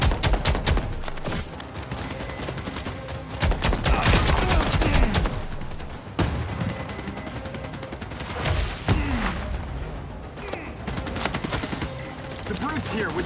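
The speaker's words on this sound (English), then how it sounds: "Firing on multiple targets." Dense bursts of automatic gunfire from The Expanse: Osiris Reborn video game, with rapid shots and heavy booms firing at multiple targets, loud and continuous with brief lulls.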